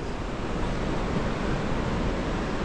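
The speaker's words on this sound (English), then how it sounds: "And you can hear the water right behind you." Rushing water from a stream beside a trekking lodge on the Langtang trail in Nepal makes a loud, close, continuous roar with no breaks.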